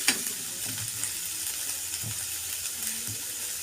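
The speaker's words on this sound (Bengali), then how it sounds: "এই তেলেই ভাজা হয়ে যাবে।" Soybean chunks fry in oil in a pan, a continuous close sizzle with occasional light stirring knocks and scrapes throughout.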